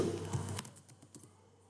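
Computer keyboard typing: a short run of close, soft key clicks that thin out into a few scattered taps.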